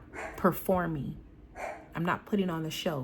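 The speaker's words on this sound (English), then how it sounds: "I apologize for the barking" Dog barks at a workplace, several short sharp barks mixed in with a woman's speech, fairly close and moderately loud, with talking running through most of the clip.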